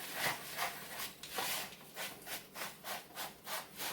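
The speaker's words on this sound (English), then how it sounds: "Got a fork here. We're just going to mix this all up nice and good." Crumbs and melted butter are stirred with a fork in a bowl for a cheesecake crust, making soft rhythmic scraping strokes, about eight or nine faint close passes with no talking.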